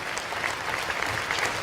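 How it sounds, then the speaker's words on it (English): Ice hockey crowd applauding in an arena, a steady dense wash of clapping that holds at an even level throughout, with no voices standing out. "Big round of applause for Ivan Bjorkley Nordstrom"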